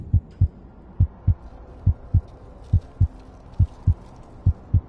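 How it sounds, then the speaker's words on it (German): A low-health heartbeat effect from the VR game In Death Unchained plays as steady double thumps, about eight beat pairs, deep and prominent over a faint hum. "Und dieser Herzschlag, wenn man fast tot ist, der nervt schon."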